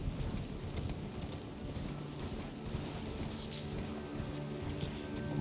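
Horse hooves clip-clop steadily while riding in Elden Ring, a continuous rhythmic trotting under game ambience and a low musical drone, fairly close and even in level throughout.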